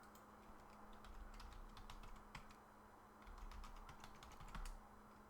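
Computer keyboard keys clicking in quick irregular bursts during a remote desktop login to a Linux machine, faint and close, with no speech.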